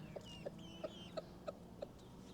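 A rooster on a farm calls his hens with a run of about six quick, evenly spaced clucks, close and clear over a low steady background.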